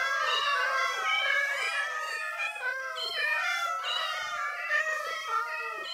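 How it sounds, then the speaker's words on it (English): Repeated high, overlapping meows from several cats in the video game Minecraft, a dense chorus of small cat calls close and loud throughout with no talking. "It's a little baby cat."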